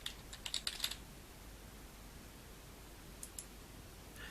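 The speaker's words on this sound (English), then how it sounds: "Click on the stage and type in some text." Keys on a computer keyboard are typed in a short burst of rapid clicks near the start, followed by quiet and two more faint taps later on.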